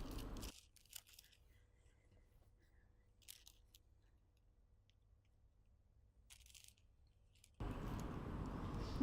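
Scissors cut Chanel-style checked fabric in a few short, crisp snipping bursts against near silence, closing on louder rustling handling noise.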